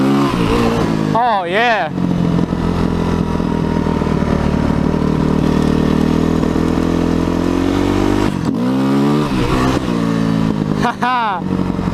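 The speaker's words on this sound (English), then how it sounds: "See if I could try and pop a wheelie here." A motorcycle revs hard as the rider lifts into a wheelie on a frozen lake, the engine note climbing and falling in loud close surges with steady running between, and a brief excited voice breaks in over it.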